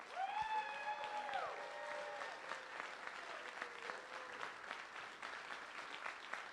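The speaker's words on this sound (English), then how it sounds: "let's give you a round of applause" An event crowd applauds sponsors with sustained clapping, while a voice or a tonal sound carries over the start before the clapping continues alone at moderate loudness.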